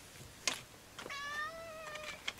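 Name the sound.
angry cat meowing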